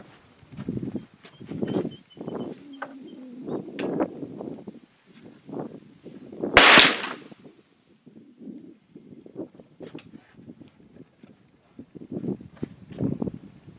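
A single sharp, loud shot from an inline muzzleloader rifle firing a 300 grain bullet over 777 black powder rings out midway, surrounded by faint outdoor wind and shuffling.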